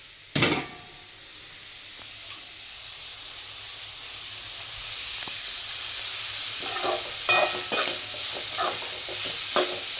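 Blood stir-fried with onions in a pan, giving a steady sizzle with stirring scrapes and occasional louder clatters throughout, no talking.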